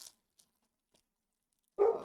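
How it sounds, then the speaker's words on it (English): A single short dog bark bursts out near the end after near silence, close and fairly loud. "sorry about my dog barking."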